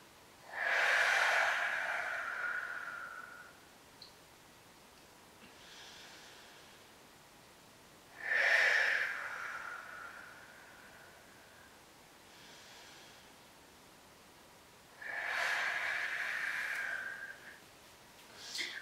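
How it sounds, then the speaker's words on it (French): Slow, deep belly breathing during a vinyasa yoga session, three long airy breath cycles spaced several seconds apart, close and steady with quiet pauses between them. "On inspire et on expire par le ventre."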